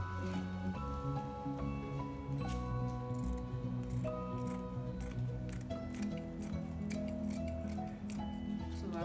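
Scissors snip through trouser fabric being cut out for sewing, with quick crisp cuts repeating over steady background music.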